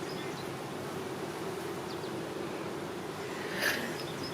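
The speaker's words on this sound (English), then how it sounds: "Holy shit, there's a lot of bees in here." A dense crowd of bees buzzing inside a hive that is being opened, heard as a steady, close hum that continues throughout, with a brief louder swell near the end.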